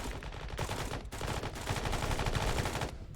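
Machine gun fire during MG training shooting at a bush: rapid, continuous bursts of loud gunshots, close and sustained with brief gaps between strings.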